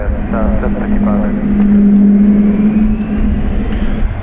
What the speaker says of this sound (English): The Airbus A300 going to Chicago Rockford International Airport is now on the roll.